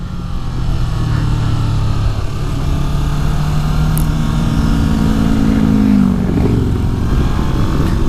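A 2018 Honda CB500X motorcycle engine braking on a winding road, its engine note steady then dropping and shifting in pitch as revs fall, loud and close with heavy wind rush throughout.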